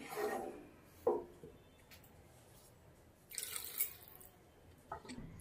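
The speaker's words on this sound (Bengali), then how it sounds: "আর একটু জল দেব, আপনারা আপনাদের পরিমাণ মতন জল দিয়ে দেবেন।" Water is poured into a cooking pot of curry, a few faint splashes and drips in short separate bursts against a quiet kitchen background.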